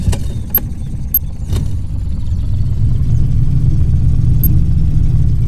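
A boat's motor in the Fishing Planet game on Emerald Lake hums low and steady, swelling slightly as it gets going, with a few sharp clicks early on.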